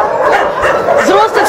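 Dogs at an animal shelter bark and yip in a dense, overlapping chorus, loud and close throughout a brief burst, with whimpering cries and voices mixed in.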